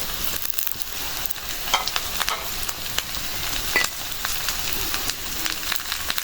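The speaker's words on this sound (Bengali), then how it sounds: "পেঁয়াজটা ভেজে নিলাম এখন দিয়ে দেবো কাঁচামরিচ" Onions frying in a pan as green chillies go in, a continuous sizzle with crackles and occasional stirring clicks, close and moderately loud.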